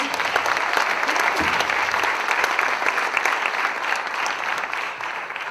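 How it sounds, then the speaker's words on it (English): An audience applauds the first team, UC3M Team C, at a data science hackathon in Madrid, with steady, dense clapping filling the room for several seconds without a break. "Give them a big round of applause."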